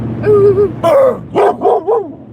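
A dog at a campsite gives four or five close, loud barks and yips in quick succession, some drawn out almost into whines, with no talking over them.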